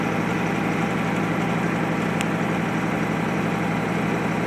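Steady low truck engine held at about 1500 RPM under acceleration, a continuous loud drone with an even throbbing pulse and no talk.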